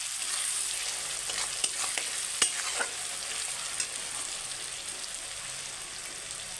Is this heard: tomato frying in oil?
yes